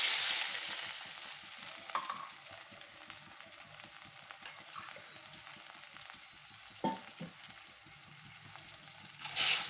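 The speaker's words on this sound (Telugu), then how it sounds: "ముందుగా చెప్పుకున్నట్లు టూ గ్లాసెస్ వాటర్ యాడ్ చేస్తున్నాను" Two glasses of water poured into a hot frying pan while making upma, giving a steady close hiss and sizzle throughout with a few brief clinks and stirring bursts along the way.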